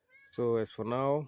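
Up close on a coffee farm, a cat gives two loud, drawn-out meows in quick succession, clear against a quiet background.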